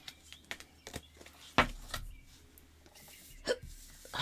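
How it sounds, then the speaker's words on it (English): A person hiccups in a quiet room. Two sharp, brief hiccups stand out about two seconds apart, with fainter clicks and small noises between them. "Hiccup again. That's 3 times."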